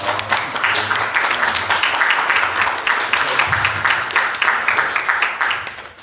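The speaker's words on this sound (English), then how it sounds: "Give a round of applause." Audience applause at a live author interview event, a dense, steady wash of many hands clapping that continues for the whole stretch at moderate loudness, fading slightly near the end.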